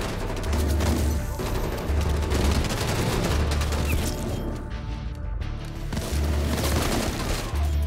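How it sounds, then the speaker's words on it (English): Minigun fire in the video game Black Ops Cold War, loud sustained bursts of rapid gunfire with heavy booming low end, several long volleys separated by short pauses, up close and dominating. "I had two people with miniguns after me."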